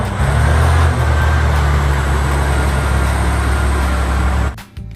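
An RC mining truck drives with a loud, steady motor rumble and drone, holding constant for several seconds before cutting out abruptly near the end.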